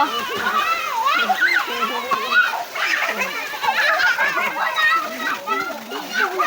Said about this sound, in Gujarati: વરસાદ પણ બહુ સારો પડી ગયો છે